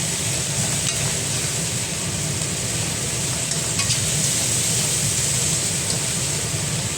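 Tomatoes and chilies frying in a pan are stirred, producing a steady close sizzle with occasional light scraping of the spoon against the pan.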